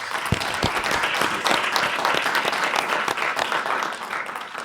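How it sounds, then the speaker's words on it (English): A crowd applauds steadily throughout at a professorial inauguration, a dense wash of many hands clapping at once, loud and sustained without any talking. "Can we give him a round of applause, please?"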